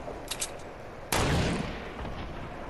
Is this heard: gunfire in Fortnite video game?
yes